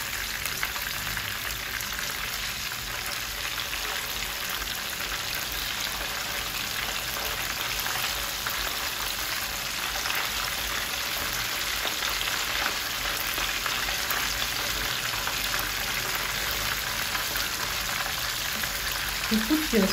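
Croaker fish fries in hot oil in a pan, with a loud, dense, continuous sizzle and crackle held close throughout and a faint tonal whine above it.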